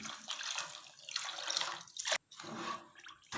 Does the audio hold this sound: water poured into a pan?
yes